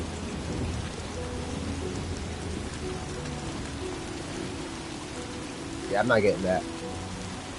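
Rain pours steadily in a video game, a continuous hiss of falling water with a low rumble of thunder beneath, and a person speaks briefly near the end.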